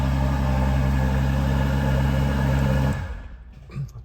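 A Ferrari GTC4 Lusso V12 engine idles with a loud, deep, steady rumble, then cuts off abruptly, leaving a quiet tail.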